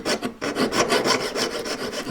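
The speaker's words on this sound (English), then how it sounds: "You can only turn it as you're sawing." A jeweller's saw cuts through thick metal in steady back-and-forth strokes, about a dozen rasping passes in a regular rhythm, close and fairly loud, with no voices.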